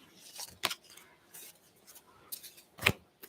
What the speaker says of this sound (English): I just need to shuffle them